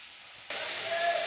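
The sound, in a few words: water spinach (kalmi shak) frying in a pan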